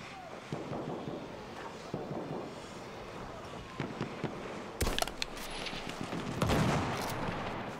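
Rapid rifle shots from a Vetterli repeating rifle in the Battlefield 1 video game, a series of sharp cracks spaced a second or so apart over continuous battle noise, with a heavier burst of fire toward the end.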